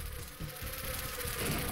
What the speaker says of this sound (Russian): Мухи что-то вообще лютуют там